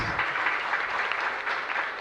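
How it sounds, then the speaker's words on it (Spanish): A parish congregation at a Christmas Day Mass applauds loudly in a continuous, even roar of many hands clapping. "Un fuerte aplauso para todos ustedes"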